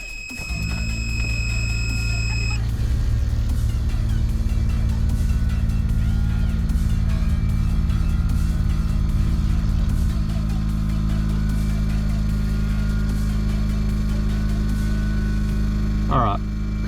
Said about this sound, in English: I'm just gonna flick the car on and air up and down a little bit to get the compressor going